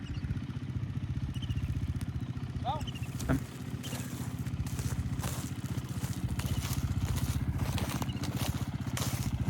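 A dirt bike engine runs on an enduro race track in Pokhara, a close, steady buzzing drone that holds for the whole stretch with little change in pitch.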